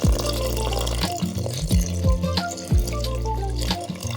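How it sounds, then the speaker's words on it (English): Yeasted water poured over bread flour while mixing a chiabatta-style Georgian bread dough: a steady, close splashing and gurgling pour that runs continuously throughout. "Pour it over the flour,"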